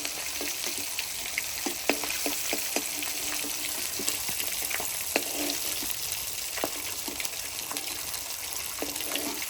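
Katla fish pieces being lifted out of hot frying oil, a continuous loud bubbling sizzle with scattered sharp crackles and pops, close and unbroken with no talk.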